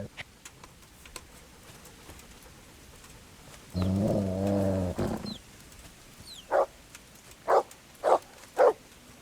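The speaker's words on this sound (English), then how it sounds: "There's the good doggy." A dog in Kingdom Come: Deliverance barks four times in an evenly spaced series, loud and close, after a sustained tonal sound and amid soft background ticks.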